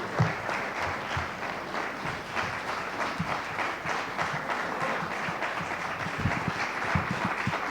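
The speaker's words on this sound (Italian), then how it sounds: "Grazie Alessandro, anche questo applauso abbastanza caloroso mi sembra segni un gradimento" Warm, steady applause from a lecture audience after a reading in a Venetian history course, dense clapping that holds evenly throughout without talk over it.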